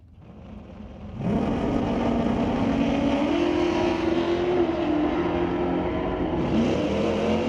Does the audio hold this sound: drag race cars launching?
yes